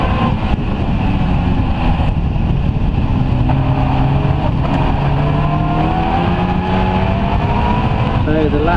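Classic stock cars race round an oval raceway, a loud continuous engine roar with rising and falling revs that stays close throughout, while an announcer's commentary runs over it.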